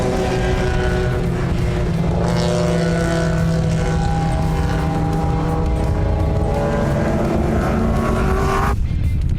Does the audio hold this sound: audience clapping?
no